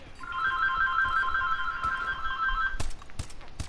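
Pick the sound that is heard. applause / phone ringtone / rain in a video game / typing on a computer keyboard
phone ringtone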